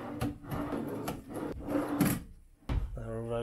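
Wooden chest of drawers in a hotel room being pulled open and pushed shut, a series of sliding scrapes and thumps close by, with someone talking over parts of it.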